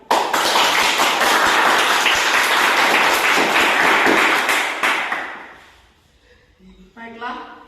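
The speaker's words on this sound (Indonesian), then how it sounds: "Sekali lagi beri tepuk tangan kepada beliau." Audience applause at a school performance about the Youth Pledge, sustained dense clapping for about five seconds that tapers off, followed by a voice speaking.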